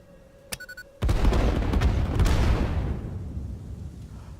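Explosions go off in the video game Satisfactory: a few short clicks, then a loud, sudden blast that rumbles on heavily for a couple of seconds before slowly fading out.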